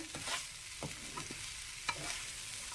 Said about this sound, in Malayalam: ഇത് മൂന്നും കൂടെ നന്നായിട്ടൊന്ന് ഇളക്കി യോജിച്ച് നെയ്യുമായിട്ടൊക്കെ ഒന്ന് നല്ലതായിട്ടൊന്ന് സെറ്റായി വരട്ടെ